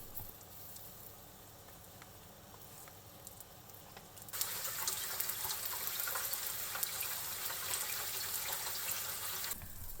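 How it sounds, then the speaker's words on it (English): Salmon pieces dusted with potato starch fry over high heat in salad oil in a pan, a steady broadband sizzle that jumps louder partway through and carries on evenly before cutting off near the end. "fry it over high heat for about 4 minutes, flipping halfway through"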